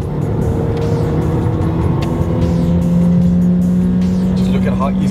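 Mercedes A45 AMG with a 7-speed dual-clutch gearbox accelerating smoothly, a steady engine drone with rising tones and shifting pitch, heard from inside the cabin, continuous and fairly loud.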